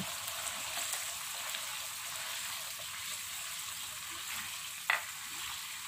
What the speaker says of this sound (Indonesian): Baru kita masukin ini kelapa gongsengnya itu. Nah, kita aduk lagi.